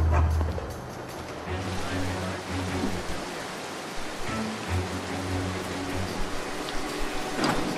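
Dogs barking in the video game Mark of the Ninja, repeated yapping barks at intervals over a rainy, noisy ambience.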